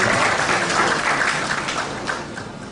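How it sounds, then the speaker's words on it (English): Audience applause at a church conference gathering, a dense continuous patter of many hands clapping that tapers slightly toward the end, heard alone without speech. "the USC deserves a round of applause"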